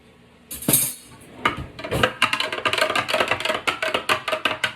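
A spoon scraping and clinking against a bowl while food is mixed during meal prep, quiet at first, then a loud clank and a run of rapid, rhythmic metallic knocks, close and alone.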